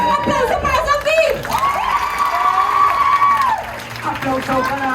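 An audience at a circus theatre show claps and cheers with lively whoops and children's shouts, while an excited voice talks loudly over the crowd noise throughout.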